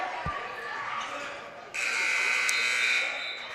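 A loud electronic buzzer sounds at the end of a quarter in a high school girls' basketball game, a sustained harsh blare in the second half of the clip, following a single ball bounce and arena noise.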